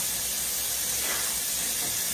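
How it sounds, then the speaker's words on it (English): Tap water runs steadily during hand washing at a kitchen sink, a continuous close hiss with no breaks and no talking. "Let me wash up my hands."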